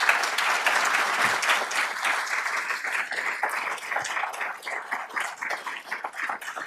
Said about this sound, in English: I'd like everybody to give them a round of applause.